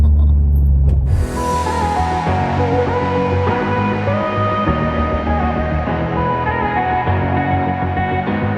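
A car driving through city traffic in Cape Town, with a steady low engine and road rumble running continuously throughout.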